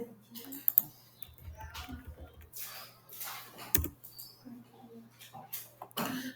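A computer keyboard clatters as a company name is typed, with a short burst of quick keystrokes and a few isolated clicks, heard under and between someone talking.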